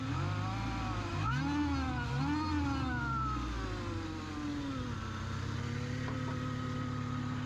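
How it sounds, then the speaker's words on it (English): A supercharged Mazda MX-5 NB Miata fitted with a G19 blower kit, driving on back roads in Surrey, gives a steady loud engine drone with rising and falling revs and a whining tone throughout, with no talking. "G19 kit to put on, and it sounds amazing."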